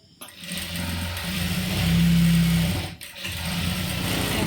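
An electric sewing machine stitches churidar fabric, its motor whirring in a steady run that swells, pauses briefly, then resumes, close and moderately loud with no talking.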